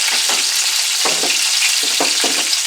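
Breaded cod fillet fries loudly in a pan with a constant dense sizzle, broken by a few soft scraping stirs, with no voices.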